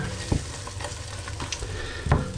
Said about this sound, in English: you need to just keep stirring, and you'll see it begins to stick on the bottom like that